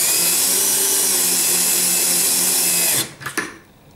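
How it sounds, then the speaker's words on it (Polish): A cordless screwdriver whines steadily and loudly while driving truck screws into a drop-through longboard deck, then cuts off near the end and leaves a few short rattles and bursts. "My używamy do skręcania wkrętarek."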